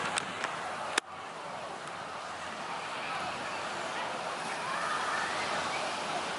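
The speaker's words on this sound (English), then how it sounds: "Do not recommend these waves today." Small ocean waves wash onto a beach in a steady, broad surf roar that swells slightly toward the end, with a sharp knock near the start and no clear talk.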